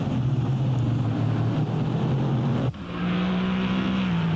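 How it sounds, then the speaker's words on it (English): A Porsche GT race car at Monza drones loudly past, its engine note holding steady then dropping sharply as it brakes hard into a chicane and downshifts, carrying on at a lower pitch. "goes to the second chicane deep braking zone in that Porsche"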